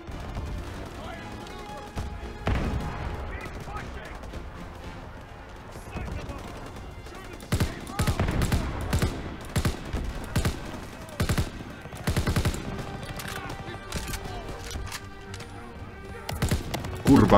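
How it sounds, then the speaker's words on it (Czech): Gunfire in Call of Duty: WWII, with scattered sharp shots and short bursts that cluster in the middle and later part, mixed with game sounds and voices. "Ale pořád tam něco střílí"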